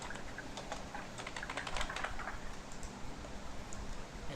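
Fast, close typing on a computer keyboard, a quiet, dense patter of key clicks running steadily with no one speaking.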